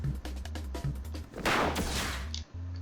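Mortar cannon fire in the Rengoku video game, a burst of sharp game explosions and rapid impacts over a pulsing low hum, ending in a heavy blast.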